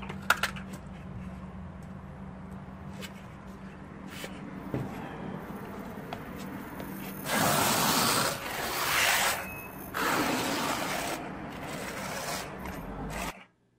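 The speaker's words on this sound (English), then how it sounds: "You're gonna trowel it in really tight." Trowel scraping and rubbing concrete resurfacer onto a dry, spalled concrete surface, a steady gritty rasp with louder, harsher strokes in the middle and near the end.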